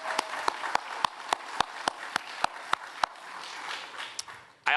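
Audience at the 2023 Downtown DC annual meeting applauds for Brooke Pinto, a steady wash of clapping across the room, punctuated by a regular series of sharp, loud claps near the microphone, fading toward the end.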